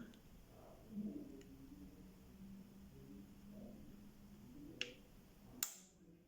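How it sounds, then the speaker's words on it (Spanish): Two sharp, faint clicks near the end as an alternator's carbon brushes are released and snap back onto the slip ring during disassembly, over a quiet, low background hum. "Un clic,"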